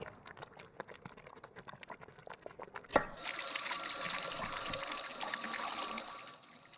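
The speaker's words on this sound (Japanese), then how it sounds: "蛇口から出る水の音。" Scattered drips and taps give way to a sudden clunk, then a steady rush of water pouring from a faucet that stops near the end.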